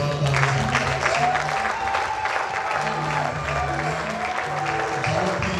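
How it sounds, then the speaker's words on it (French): Church congregation applauding and cheering at a tenth-anniversary evangelical service, a steady wash of clapping with voices rising through it across the whole stretch, fairly loud and close. "Manifestons notre joie par les acclamations."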